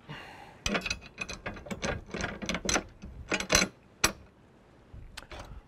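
Metal socket cap screws being fitted and tightened on a rub rail of a 2015 Jeep Wrangler JK, a close series of sharp ratcheting clicks and metallic taps in irregular bursts.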